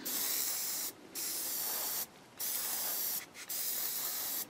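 An airbrush sprays a fine mist of paint onto a model kit in three or four steady hissing bursts, each about a second long with short silent gaps between, close and moderately quiet.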